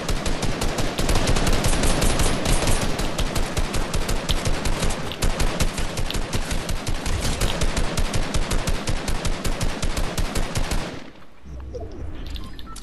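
Rapid automatic gunfire from a shooter video game rattles in a dense, sustained stream of loud, closely spaced shots for about eleven seconds, then cuts off abruptly, leaving faint background noise.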